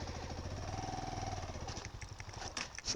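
A motorcycle engine idles nearby with a faint, even putter that fades toward the end as the bike is parked by a river.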